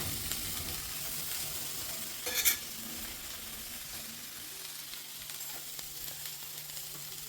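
Chickpeas sizzle and fry in a pan while being stirred, a soft steady hiss broken by one short louder scrape of stirring midway.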